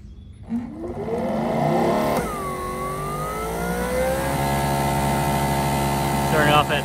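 A Greenworks 3000 PSI electric pressure washer runs at about 2500 PSI through a 25 degree nozzle, its motor holding a steady droning whine that dips and shifts in pitch under a continuous spray hiss.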